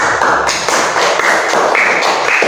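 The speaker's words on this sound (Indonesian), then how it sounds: "saya berikan aplaus semuanya" Students in a classroom applaud the groups with a dense, even wash of many hands clapping together that stays steady and fairly loud for a couple of seconds.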